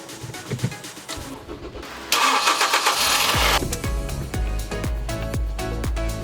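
A scrapped Ford Fiesta ST150 engine cranking with a whirring starter, then catching and firing into a rough, loud idle nearby; bird calls chirp faintly in the background beforehand.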